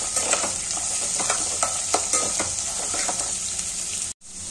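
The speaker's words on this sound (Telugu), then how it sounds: "just frying oil" Chopped onion frying in oil for a poha upma, a close crackling sizzle with repeated stirring scrapes, cutting off abruptly near the end.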